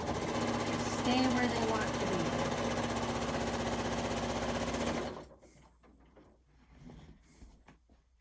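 A sewing machine stitches quilt sashing in a loud, continuous mechanical whir for about five seconds, then stops, and a person then speaks quietly.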